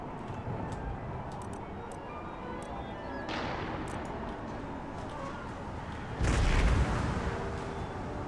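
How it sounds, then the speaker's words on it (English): Howitzers and cannons firing in an Empire: Total War battle, dull booming reports rolling over a constant rumbling battlefield bed, with one heavier, louder blast near the end. "They are beginning to shell our lines. And there go our howitzers firing."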